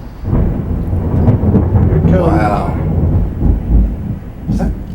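Thunder rolls loud and close over a steady wash of rain through a thunderstorm, the rumble swelling and fading over several seconds while a voice gives a brief exclamation.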